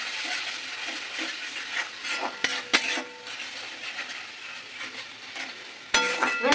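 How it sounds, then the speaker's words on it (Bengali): Bengali chicken masala curry spice paste frying in a pan, a steady close sizzle with occasional sharp clicks and scrapes of stirring throughout. "মশলাটাকে আমি ভালোভাবে কষিয়ে নেবো।"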